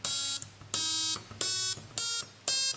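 Notes from an electronic toy organ built from an NE555 kit: five bright, buzzy electronic tones of rising pitch, each held about half a second with short gaps, loud and close with no talking.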